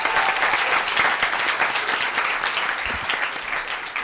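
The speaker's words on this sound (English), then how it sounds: "please give a round of applause for Megan Shaw" Sustained applause from an audience at a law school evidence competition event, steady dense clapping throughout at an even loudness with no speech over it.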